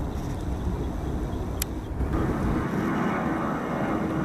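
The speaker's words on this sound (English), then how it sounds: "It's like an Embraer." An Embraer ERJ regional jet inbound at Atlanta airport roars past, a steady broadband jet rumble that swells slightly midway and stays loud throughout.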